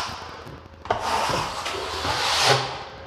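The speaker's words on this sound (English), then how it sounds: "Just keep working on the trowel." A steel trowel drags across drying plaster on a large wall patch, a broad scraping rub that swells and fades in long strokes, close and fairly loud, with no talking.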